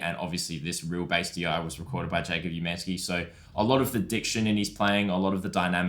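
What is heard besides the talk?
No everyday noises stand out.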